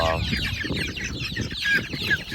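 Thai chickens and crossbred birds cluck and chatter together on a farm, a busy overlapping run of close, fairly loud calls with a faint voice behind.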